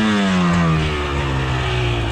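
A 2024 KTM 300 dirt bike at a hare scramble race revs hard and close as its rear tire spins, the engine pitch sliding downward then holding a loud, steady drone.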